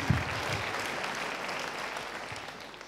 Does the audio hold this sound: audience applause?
yes